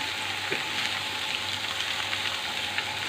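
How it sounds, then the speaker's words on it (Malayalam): Cabbage thoran with grated coconut cooking in a pan, a steady close sizzle and crackle with light stirring scrapes, no voices. "നല്ലപോലെ ഒന്ന് ഇളക്കി കൊടുക്കാം"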